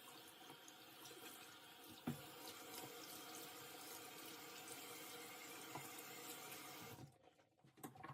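Water runs steadily from a bathroom sink tap while a face is wetted, a soft continuous splashing stream with a few louder splashes, stopping near the end.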